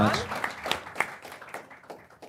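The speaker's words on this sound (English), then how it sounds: "Let's have a round of applause for our panel" Audience applause with scattered, uneven claps that thin out over a couple of seconds, mixed with a murmur of voices.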